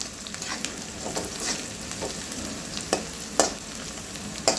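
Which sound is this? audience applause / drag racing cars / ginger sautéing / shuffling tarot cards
ginger sautéing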